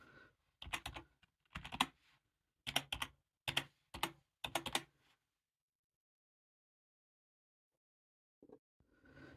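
Bursts of typing on a computer keyboard while a Wi-Fi password is entered during Raspberry Pi 5 setup, several quick clusters of keystrokes, then a long silence and a couple of faint later taps.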